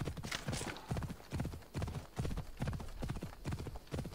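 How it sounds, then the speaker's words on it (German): A horse trots in Assassin's Creed Odyssey with a steady, rapid clip-clop of hooves. The hoofbeats are close and even across the whole stretch, with faint background sound beneath. "Na gut, wir haben das Pferdegetrappel,"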